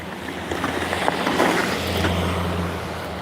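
A red car driving up on an icy, salted work lot, its steady engine hum and tire rumble coming closer, moderately loud.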